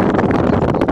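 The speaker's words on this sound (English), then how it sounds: "it's extremely windy" Strong wind roars and buffets loudly across the microphone in a dense, rumbling rush, with no voices.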